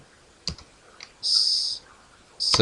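Rapid clicking keystrokes on a computer keyboard, typed in two short bursts separated by a pause, with a few isolated taps before them. Close and fairly faint.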